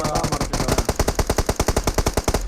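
Rapid automatic gunfire in the mobile battle royale game BGMI, a loud, close, continuous burst of evenly spaced shots running for a couple of seconds.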